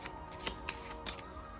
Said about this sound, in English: Let's shuffle the tension deck.